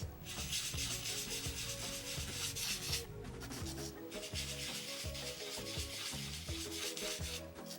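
Blending sponge rubbing ink onto card, a close, faint, continuous scrubbing with small squeaks in repeated strokes and brief pauses, no talking.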